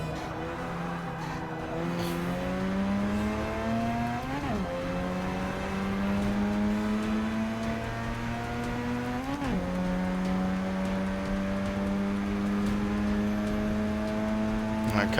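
A Mazda race car in the Forza 6 racing game revs hard through repeated gear shifts, its engine pitch climbing steadily then dropping sharply twice, loud and continuous with faint tire noise.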